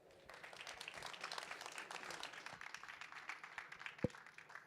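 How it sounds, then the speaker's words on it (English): Audience applause at a panel on LPWA at 4YFN during MWC Barcelona 2019: dense, steady clapping from a crowd through the whole stretch, moderately distant, with one sharp louder clap near the end and a faint voice underneath. "give a round of applause"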